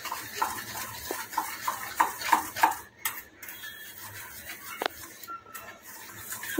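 A spoon clinks and scrapes against a bowl while dry batter ingredients are mixed, a run of quick light taps followed by quieter intermittent scraping, close up with no talk.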